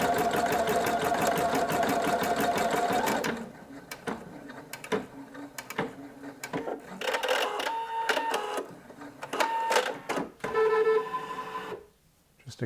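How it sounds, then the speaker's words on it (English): Singer EM9305 embroidery sewing machine stitching out lettering in fonts of several sizes, a steady close mechanical whir and rapid needle chatter running loud for about three seconds, then continuing in broken, uneven bursts with short pauses until it stops near the end. "I'll go ahead and stitch out the other sized fonts so that you can see those in comparison to this here"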